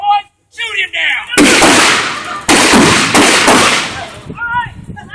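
Video-game gunfire in a western railway setting: a rapid volley of loud, close shots in two bursts, with brief talk before and after.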